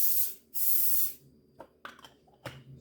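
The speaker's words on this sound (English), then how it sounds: "it's important to spray either butter flavor, olive oil spray, whatever cooking spray" Cooking spray, such as butter-flavor or olive-oil spray, hissing into a pan in two close bursts of about half a second each, followed by a few faint clicks and taps as the can and pan are handled.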